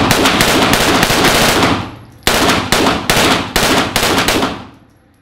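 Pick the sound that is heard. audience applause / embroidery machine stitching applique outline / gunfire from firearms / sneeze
gunfire from firearms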